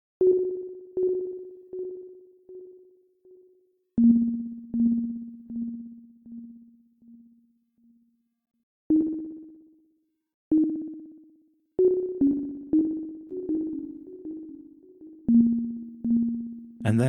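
Repeating tones from a digital delay with feedback on the right channel, each struck note echoing several times and decaying, new notes at varied pitches layering into overlapping trails that build into a denser wash near the end.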